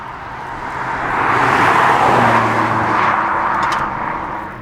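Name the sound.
BMW M140i 3-litre straight-six engine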